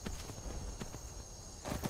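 Horse hooves clop faintly and unevenly on the ground in the VR game Skyrim, a few soft, scattered strikes over a steady low background hum.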